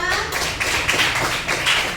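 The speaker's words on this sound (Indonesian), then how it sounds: "Tepuk tangan dulu untuk kita semua." A 10th-grade class in a school religion lesson claps hands together, a close, busy patter of clapping with uneven bursts, some faint voices mixed underneath.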